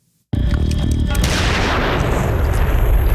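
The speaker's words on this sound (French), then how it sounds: "se tirer une balle dans le crâne" A gunshot from the film Fight Club, where a man shoots himself in the head, bursts abruptly out of silence as a loud boom, then a dense, ringing roar that stays heavy for a few seconds.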